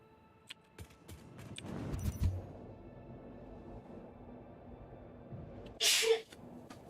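A single sharp sneeze bursts out near the end, louder than the steady low hum and scattered faint clicks before it; no one talks.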